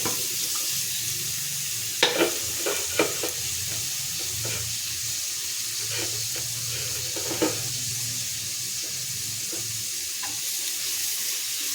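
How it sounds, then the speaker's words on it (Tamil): Continuous sizzling of chopped beetroot stir-frying in a hot pan with occasional scraping and clanking of a utensil as it is stirred, no talking. "இப்படி வணக்கிட்டு நறுக்கி வச்ச பீட்ரோட்டை ரொம்ப சேர்த்துக்கலாம்"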